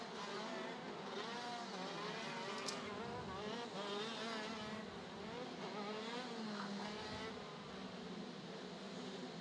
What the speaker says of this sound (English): Almost 50 horsepower being generated by each of these 125cc KZ2 engines.